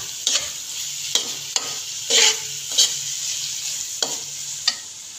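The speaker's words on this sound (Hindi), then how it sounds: "बस थोड़ा सा मुझे भूनी भूनेंगे, इसके बाद हमारा हलवा बिल्कुल रेडी हो जाएगा" Apple carrot halwa roasting in a pan, a constant hissing sizzle broken by irregular scrapes and taps of a spoon stirring, near and fairly loud, with no voices.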